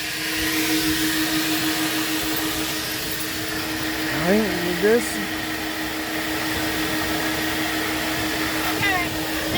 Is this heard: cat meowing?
no